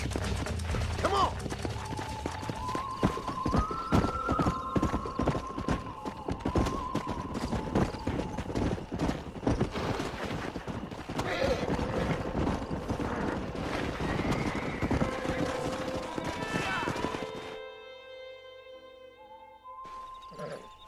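A horse gallops with rapid, rhythmic hoofbeats in the Red Dead Redemption video game, loud and continuous for most of the clip, with occasional whinnies and game music, then it stops abruptly near the end.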